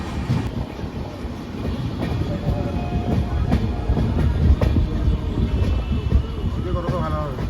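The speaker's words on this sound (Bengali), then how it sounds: "ফাইনালি ট্রেন ছেড়ে দিয়েছে শালিমারি স্টেশন থেকে, এখন অনেকটাই চলে এসেছি।" Sri Jagannath Express, an LHB-coach train, rolls steadily on rails after leaving Shalimar station, with continuous loud rumble and rhythmic wheel clatter throughout, close and constant, with faint voices in the background.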